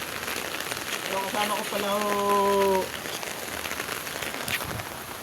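Steady rain pattering on a surface, a continuous soft hiss throughout, with someone speaking briefly over it.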